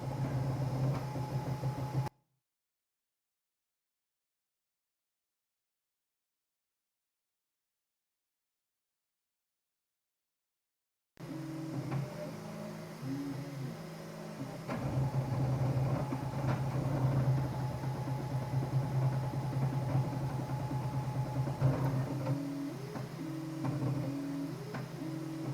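A 3D printer runs indoors, a steady mechanical hum with repeating whirring stepper-motor tones and soft rhythmic movements. A short silent gap comes early, then the printer continues unbroken with no talk.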